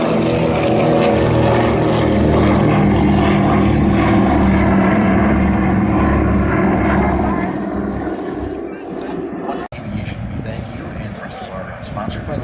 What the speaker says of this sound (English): And on takeoff roll right now, Craig 63.